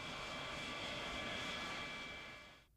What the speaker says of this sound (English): the beautiful Lockheed SR-71 Blackbird is still the fastest and highest flying operational aircraft in the world